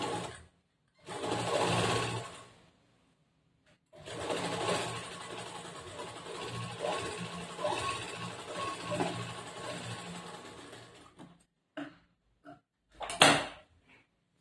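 A sewing machine stitching a plain blouse runs in bursts: a short run, a long continuous whir of stitching, then a few quick stops and starts, close and clear in a quiet room.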